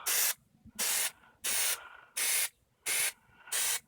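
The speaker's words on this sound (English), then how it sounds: "I just kind of spray on," Plasti Dip coating sprayed in short bursts onto a DIY cosplay prop holster, six even hissing sprays about a second apart, close and crisp with quiet gaps between.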